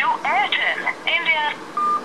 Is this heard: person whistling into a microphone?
no